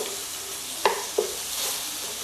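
Onions cooking in simmering oil for palak paneer with tofu: a steady close sizzling hiss with two brief clinks from stirring.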